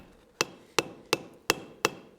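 A hammer lightly planishes a forged piece on an anvil, striking five evenly spaced, ringing blows about a third of a second apart, close and clear.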